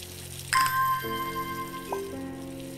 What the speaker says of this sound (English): Water all the plants.